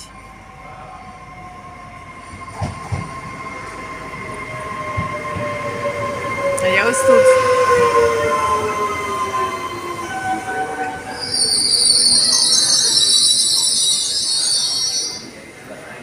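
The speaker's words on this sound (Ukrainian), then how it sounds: "Ось такий італійський поїзд" An Italian passenger train pulls into a station in Venice, its wheels squealing and brakes hissing loudly, ending in a high screech; someone speaks briefly.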